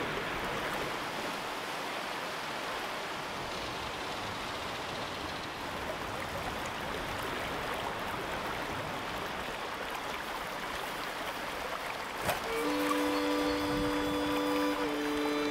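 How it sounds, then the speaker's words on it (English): A free-flowing cold water trout stream gives a broad, steady rush of moving water, constant and fairly close, with a brief knock near the end and a faint tonal hum joining over the last few seconds. "You're on a free-flowing, cold water stream."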